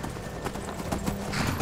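Horse hooves clip-clop steadily near a farm stable in the Skyrim video game, with a dense, close, continuous rhythm of hoofbeats.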